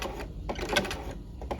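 Sewing machine stitching a narrow roll hem, a close, steady mechanical whir with short bursts and pauses as a few stitches are run.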